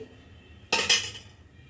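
A cooking pot set down for brinjal rice, where oil goes in next, gives a sudden metallic clatter with two quick close clinks, near and fairly loud, then fades into quiet kitchen room tone.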